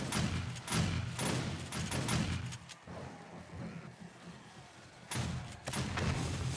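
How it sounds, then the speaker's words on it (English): Gunfire cracks out in a video-game zombie fight in 7 Days to Die as a headshot lands on a large zombie. It comes as loud bursts with a quieter gap in the middle and no speech. "Oh, headshot on Big Mama. Pop that head."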